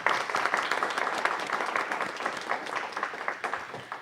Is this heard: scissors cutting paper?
no